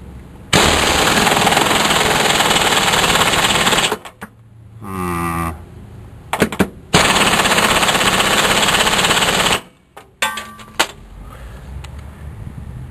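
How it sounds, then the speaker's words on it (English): A cheap flea-market impact gun tightens a bolt on a brake job, running in long loud buzzing rattles of several seconds each with short pauses and brief clicks between them. "Ready? Impact gun,"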